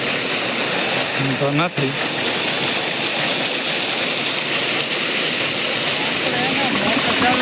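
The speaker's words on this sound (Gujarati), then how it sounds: "હાલો ભાઈ મોટર થઈ ગઈ ચાલુ" An electric motor pumps water on a village farm, producing a steady, loud rushing roar that runs unbroken throughout, with a brief spoken phrase near the start.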